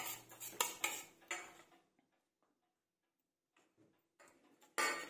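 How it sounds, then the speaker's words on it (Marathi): Masoor dahi vada batter being mixed with ground ginger and chilli, giving clattering scrapes and taps of a spoon against a bowl in two bursts separated by a near-silent gap, close and fairly loud, with no talk. "हे सगळे व्यवस्थित एकत्र मिसळून घेऊ"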